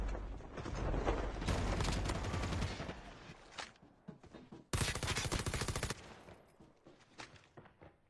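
Automatic gunfire in Call of Duty Mobile, with loud sustained bursts of rapid shots and a second dense burst a few seconds later, plus mechanical clicks between them.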